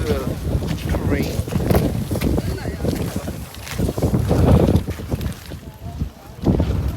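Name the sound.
strong wind gusts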